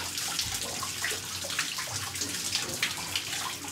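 A shower runs steadily in a cramped shared space where men wash together, the water hissing and spattering continuously at moderate volume, with no talking.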